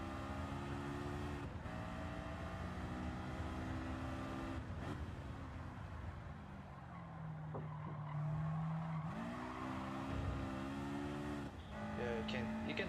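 A race car in Gran Turismo 7 revs through its gears with tonal engine whine rising and falling between shifts, plus brief tire squeal, steady game audio with a voice talking over it.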